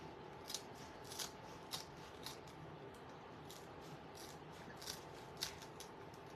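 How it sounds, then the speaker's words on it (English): Scissors snip along a Dollar Tree coco liner for a wonky snowman craft, giving about ten light, quick cuts at an irregular pace over a low background hum. "Maybe we'll just cut it, trim it down just a hair."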